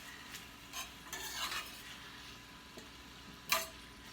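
A hot dog frying in reused hot oil, a faint, quiet sizzle broken by a few soft clinks and scrapes of a utensil against the pan, with one sharper scrape near the end.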